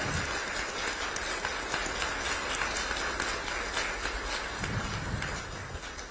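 Guests at a Korean community dinner reception in India, held during the South Korean president's state visit, clap warmly to welcome the president. The applause is steady and crowded across the hall, then eases slightly near the end.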